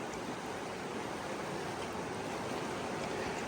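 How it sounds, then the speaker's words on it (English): A river at a hiking-trail crossing on New Zealand's Te Araroa Trail, deep but with modest current, rushes in a steady broadband hiss, loud and continuous with no voices. "Easy river crossing."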